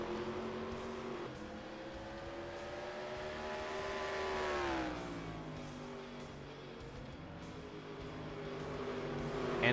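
Stock race cars on a tight short track drone past with engines rising and falling in pitch, a continuous mid-distance roar swelling and fading as the pack circles.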